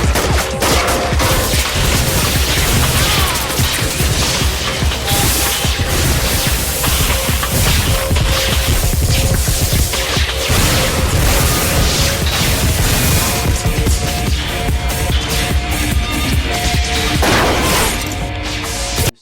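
Sniper fire from a neighbouring building in a film: loud, dense volleys of gunshots with crashing and shattering impacts, sustained and chaotic, filling the whole scene with almost no letup.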